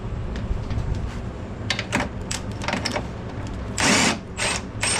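A ratchet works loose oil-soaked bolts on a drift car, with scattered close clicking bursts and a louder clatter of mechanical rattling toward the end, no talk.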